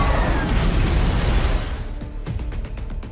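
Launcher shot explosion in the zombie film Army of the Dead, a loud rumbling blast that fills the first half and then settles into debris and scattered crackling impacts.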